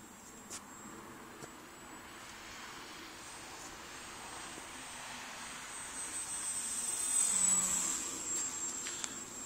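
A Spitfire aircraft flies at a distance with a faint, broad engine drone that swells gradually and peaks near the end, with no voices.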